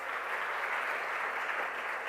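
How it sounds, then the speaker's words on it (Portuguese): A church congregation applauding during a sermon: dense, continuous clapping from a large crowd, steady and fairly loud throughout, with no break. "aplauda Jesus, celebre o nome dEle."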